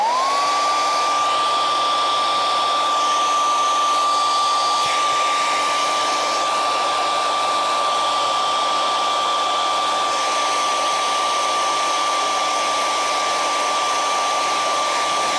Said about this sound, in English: So get ready to actually hear the hairdryer.